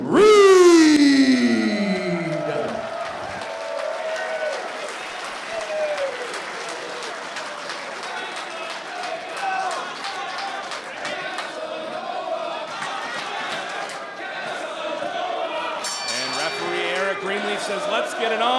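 Crowd at a professional wrestling event cheering and yelling steadily throughout, loud and dense, with a ring announcer's voice and brief sharper accents over the roar.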